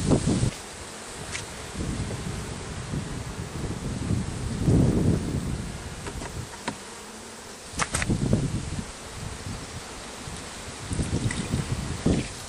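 Honey bees from a package colony buzzing around the hive frames, a continuous close drone with rustling and handling bumps mixed in, swelling and fading over about twelve seconds.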